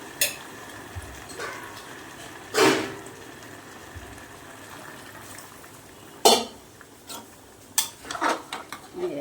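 Peas in water with green chillies are stirred in a pressure cooker for matar ghugni, heard as a few scattered metallic scrapes and knocks against a faint background hiss, with an isolated cough-like burst.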